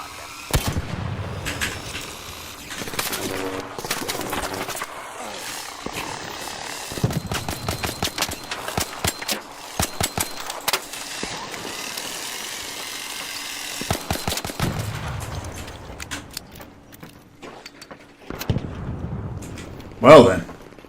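Gunshots in the Terraria video game, repeated sharp cracks in irregular bursts and rapid clusters across about twenty seconds, moderately loud over quiet game background with a louder hit near the end.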